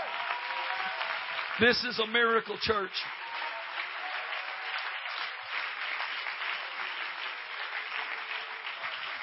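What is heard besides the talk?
church congregation clapping hands in praise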